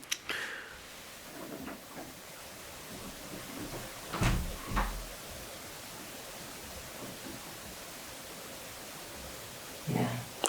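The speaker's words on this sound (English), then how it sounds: "I'm just going to see if I can open the door." A door being opened by hand indoors during a quiet ghost-hunting session: a soft creak and knock near the middle, with a second muffled thump near the end over a hushed room hiss.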